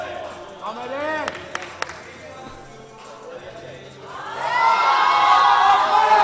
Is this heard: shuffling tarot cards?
no